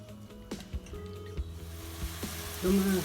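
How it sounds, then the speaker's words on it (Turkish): Chopped onion sautéing in a pan, a soft sizzle under repeated scraping and stirring strokes of a utensil, with a brief tonal beep near the end. "Soğanımızı kavuruyoruz pembeleşene kadar."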